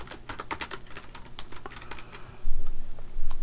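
Keys clatter on a computer keyboard as a short filter name is typed in an email settings page, a quick burst of crisp close taps under a low background hum.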